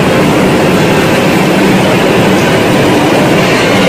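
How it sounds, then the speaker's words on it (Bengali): A metro train giving a loud, continuous, broadband rumble and roar, close and steady with no pauses. "এই যে মেট্রো"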